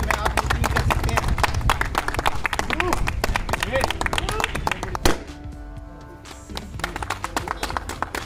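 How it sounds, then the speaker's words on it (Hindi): An audience at a company event applauds to welcome a speaker onto the stage, with dense, rhythmic clapping for several seconds that then stops abruptly, leaving quieter room sound with a voice. "तो आप सब की जोरदार तालियों के बीच में मैं मिस्टर पुनीत सिंह जी को बुलाना चाहूँगा"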